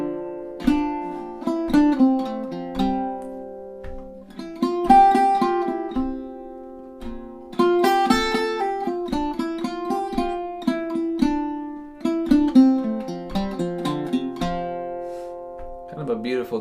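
An octave mandolin plays the second half of the B section of the tune Inverness at a slow tempo, with clear plucked notes and strums in a steady rhythm and no talking over the playing.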